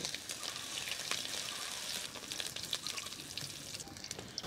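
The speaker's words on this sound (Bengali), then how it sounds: "গরম হয়ে গেছে, তেল দিয়ে দিচ্ছি। দিয়ে দিচ্ছি শুকনো মরিচ, পাঁচফোড়ন" Dried chili, panch phoron and grated ginger crackle in hot oil in a wok, a steady close sizzle with scattered pops running throughout, no voices.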